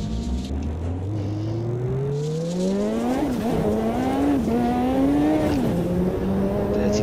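Race car tires squealing in the Automobilista 2 sim, GT0 class: a rising, sustained whine that holds through the clip with wavering pitch over steady engine roar, close and fairly loud, with no talk.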